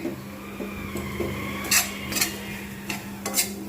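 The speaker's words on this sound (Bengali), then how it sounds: "চানাচুরগুলো একটু নরম হয়ে গেছিলো যার জন্য আমি ফ্রাইং প্যানেতে জাস্ট অল্প একটু একদম আঁচ কমিয়ে এরকম করে আমি" Chanachur snack stirred in a frying pan over low heat, with scraping spatula strokes and a few sharp clinks of utensil against pan over a soft, steady background hum.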